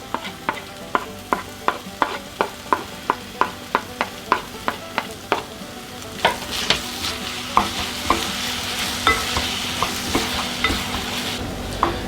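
Tomatoes going into onions and peppers frying in tomato paste, with a spoon tapping the pan in a steady, regular rhythm over a soft sizzle, the stirring turning busier and louder toward the end.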